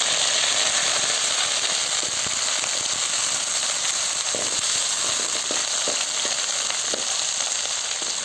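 Onion and curry leaves fry in hot oil in a pan, a steady close sizzle with faint crackles and pops throughout.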